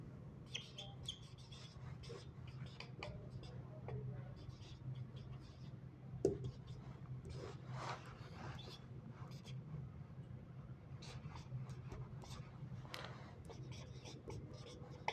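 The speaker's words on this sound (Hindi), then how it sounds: "एक बार मैं लिख देता हूँ फिर समझाता हूँ।" A pen scratches across paper in quiet, intermittent strokes and short bursts. The sound stays faint and close, with a low steady background hum.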